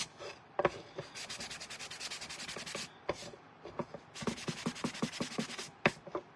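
Rough, rhythmic scraping of sandpaper against the edges of a wooden decor shelf sitter, in bursts of quick back-and-forth strokes with brief pauses between, close and fairly loud.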